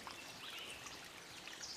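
Faint, steady trickle of creek water at a campsite, a soft continuous wash with no voices, heard at a distance and low in level.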